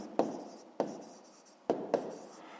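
Pen or chalk writing during a sixth-grade math lesson: four firm taps and strokes spaced unevenly across a couple of seconds, close and fairly quiet over a faint room hiss.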